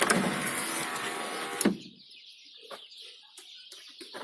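An automatic chicken coop door runs under manual control, giving a loud steady mechanical whir that stops sharply after about a second and a half, followed by faint scattered clicks and chicken clucks.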